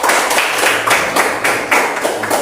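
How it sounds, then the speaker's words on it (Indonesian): A small group in a classroom gives a student a round of applause, several people clapping in an uneven rhythm for a couple of seconds. "Tepuk tangan untuk Fadil."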